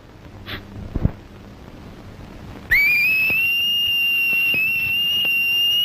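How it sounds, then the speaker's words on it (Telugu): A loud, piercing two-finger whistle cuts in partway through and holds steady as one long, shrill note, following a quieter stretch with a few faint knocks. "ఈల వేయటం నాకు మాత్రం ఇష్టమన్నా?"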